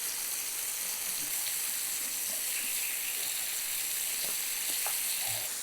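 Chicken fries in a pan after being flipped, giving a steady close sizzle with small pops and crackles throughout and no talking.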